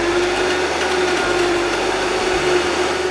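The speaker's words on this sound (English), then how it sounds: "I'm gonna get my top on and blend." A blender runs continuously through frozen acai, raspberries and mango, a steady loud motor whine with a grinding texture that shifts slightly as the thick frozen fruit catches and moves.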